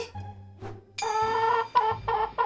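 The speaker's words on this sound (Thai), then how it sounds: "ไก่ ไก่" Chicken clucking in short bursts at close range, a few harmonic squawks following one another over a low background hum.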